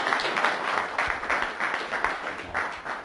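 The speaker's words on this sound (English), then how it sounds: "I just want everybody to give a huge, huge round of applause to Richard Clark and Scott Salem" An audience at a hypnosis seminar breaks into a full round of applause, dense steady clapping from many hands filling the room throughout.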